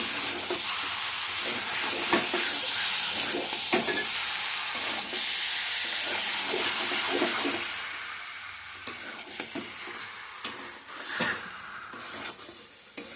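About a kilo of chicken being sautéed in a pan, a loud continuous sizzle with stirring clatter that eases off partway through, no voices.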